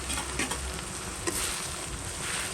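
Chilies fry in a hot pan with a steady, close sizzle, broken by a few light scrapes and clinks of stirring.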